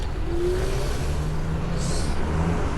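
Cars on a Dubai street pass by in a steady traffic hum, with engines droning at moderate distance and a brief higher whine partway through.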